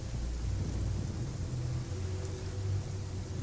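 Steady rain hisses through a Genshin Impact storm with a low rumble of thunder beneath, a continuous wash of weather sound with no voices.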